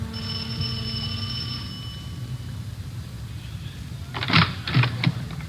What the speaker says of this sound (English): rang the doorbell